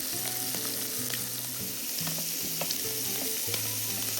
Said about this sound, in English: Fry the whole prawns for 1 to 2 minutes per side.